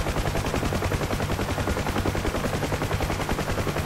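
A door gunner's machine gun fires in a long continuous burst from a UH-1H Huey helicopter in the DCS flight sim, with dense rapid rattling shots, loud and steady throughout over a low rotor drone.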